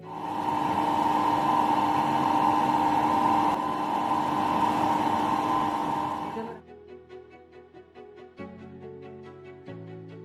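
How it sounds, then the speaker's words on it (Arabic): A Tailleur embroidery machine laser-cuts a layer of fabric with a steady, even whirring hum for about six seconds, then stops, and soft musical tones follow. "وتبدأ مرحلة القص بالليزر."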